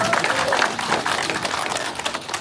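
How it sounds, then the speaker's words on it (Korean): Warm applause from a community audience at a city council member's report meeting, a brief continuous patter of clapping without pauses. "박수 한번 부탁드리겠습니다"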